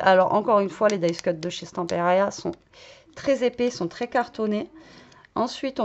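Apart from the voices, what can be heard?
No distinct noise like a dog, phone or traffic.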